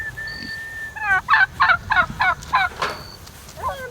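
Turkeys gobbling nearby, a rapid burst of about seven rattling gobble notes in a row, loud and close, with a thin whistle-like tone just before.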